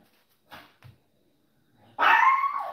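Maxi, a pet dog, lets out one loud close bark with a whiny trailing edge after a couple of faint soft knocks and a stretch of quiet.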